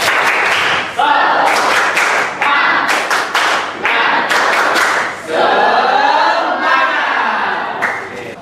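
A classroom of students does a rhythmic spirit clap during a lesson, with loud grouped bursts of clapping and thumps in a repeating pattern, broken up by shouted chanting from the class.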